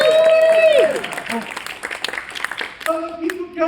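Convention panel audience breaks into a short burst of applause and clapping, loud at first and fading as a speaker talks over it.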